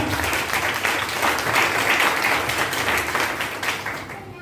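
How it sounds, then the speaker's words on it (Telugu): A church congregation claps loudly together in one sustained burst of dense applause that lasts the whole moment and fades a little at the end. "చప్పట్లు కొట్టండి ఒకసారి గట్టిగా గట్టిగా."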